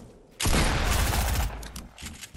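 Shotgun blasts in a first-person multiplayer shooter game, with a loud, close burst of gunfire that cuts in sharply and rolls on for about a second before fading into a quieter tail and a smaller shot near the end.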